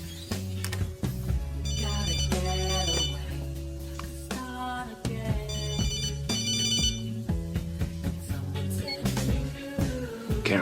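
A telephone ringtone trills in repeated bursts with pauses between them, loud and close, playing over a steady bed of background music.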